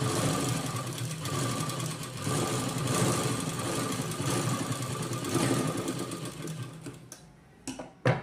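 Sewing machine running steadily for about seven seconds while stitching a folded, doubled blouse button strip, a close, continuous mechanical whir that cuts off near the end, followed by a couple of brief clicks.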